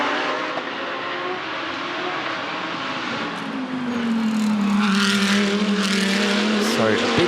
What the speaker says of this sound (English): The Audis slog it out here in Adelaide.